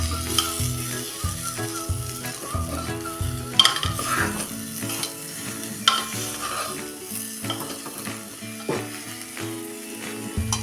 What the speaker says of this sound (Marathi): आता हे मिनिटभर आता मसाला पण चांगला वांग्याला लागेपर्यंत परतून घेऊया